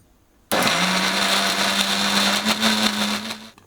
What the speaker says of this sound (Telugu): ఇందులోనే ఒక అల్లం ముక్క సన్నగా తరిగేసి, అలాగే 4-5 పచ్చిమిరపకాయలు వేసి మెత్తగా మిక్సీ పట్టాలన్నమాట